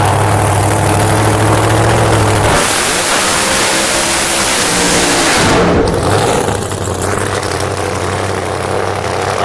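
A pro-class drag racing engine roars loudly up close at Indy, its exhaust blasting in a thunderous, rumbling wall of sound that shifts pitch as it revs and surges.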